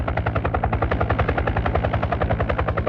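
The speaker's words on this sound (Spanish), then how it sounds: "Escuchando el tableteo del motor del helicóptero, llegamos al Cerro Autana." A helicopter engine and rotor rattle steadily on approach to Cerro Autana, a fast, loud, evenly pulsing beat that continues without pause.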